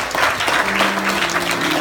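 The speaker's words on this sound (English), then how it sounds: "Another round of applause" Audience applause at an award ceremony, a dense sustained burst of many hands clapping throughout, loud and fairly close, with no clear talk over it.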